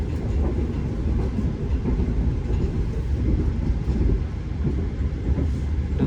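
Inside the Senja Utama Solo passenger train in Indonesia, a loud, steady low rumble of wheels on rails fills the carriage, with rhythmic clatter and no talking.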